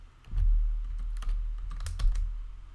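Python code is typed on a computer keyboard in quick bursts of close, crisp key clicks, with a few short pauses between the runs of keystrokes and no talk.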